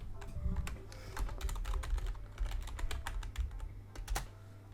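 Steady run of keystrokes on a computer keyboard as a username is typed in, close and clear, with no talking over it.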